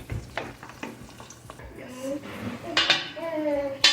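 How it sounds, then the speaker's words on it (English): Garlic and cashews frying in oil in a pan for a rustic seafood stew, with soft sizzling under clinks and scrapes of utensils against cookware, close and busy, with talk over it. "we try to infuse oil with garlic, and same time brown our cashew"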